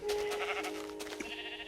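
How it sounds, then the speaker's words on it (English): A sheep in the video game Minecraft gives a short bleat, a brief wavering call heard alone and fairly close. "So let's kill this sheep."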